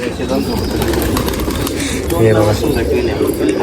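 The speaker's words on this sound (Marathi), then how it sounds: "आता इथं सहा सातशे कबूतर आहे मित्रांनो" Pigeons coo and murmur at a busy loft of several hundred birds, a dense, constant chorus under loud nearby talk.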